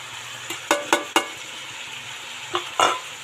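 Chicken and spices fry in a pan for chicken curry, with a few sharp scraping stirs of a spoon over a soft continuous sizzle, close and clear, with no talking.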